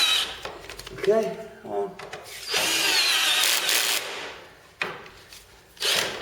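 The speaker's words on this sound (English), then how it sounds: "I'm just gonna fasten them ladders up, get that bit done" A ladder being fastened onto a Cosmos Three sleeper bed frame during assembly: short whirring bursts from a power driver mixed with wooden knocks and handling noises, while a person talks in between.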